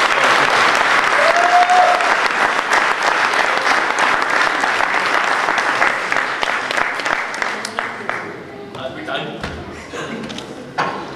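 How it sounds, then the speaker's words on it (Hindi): Loud, sustained applause from an audience welcoming a local performer onto the stage at the JHILMIL 2011 cultural event, dense clapping that fills the room and then thins out toward the end. "मैं चाहूँगा कि बहुत सम्मान के साथ जोरदार तालियों से आप अंकुर गुप्ता जी का स्वागत करें"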